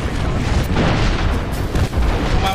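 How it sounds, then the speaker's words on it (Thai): A grenade explosion in a competitive video game scrim, a loud booming blast with dense low rumble that stays heavy across the whole moment, with no speech audible. "มาเขาปาระเบิด"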